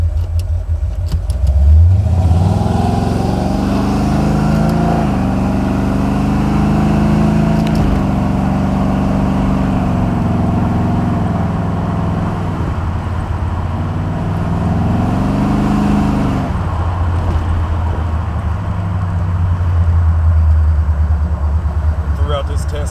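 A Buick 455 Stage-1 Regal-T V8 starts and runs, then revs through rising and falling pitch sweeps with manual shifts, a loud close engine note that settles back toward idle, with a voice talking over it.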